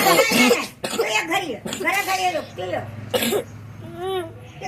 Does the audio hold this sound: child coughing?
yes